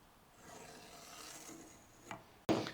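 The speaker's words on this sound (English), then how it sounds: "Burnish your tape." Masking tape being burnished onto a bog oak guitar fretboard for a scratch-built fabric-top Telecaster: a soft, continuous rubbing rasp that builds gradually, then a sharper scrape and a brief louder burst near the end.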